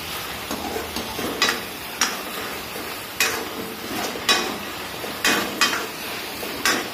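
Spice paste fries in sweet oil, a steady low sizzle broken by sharp scraping clicks of a spoon against the pan at irregular intervals, close by with no talking.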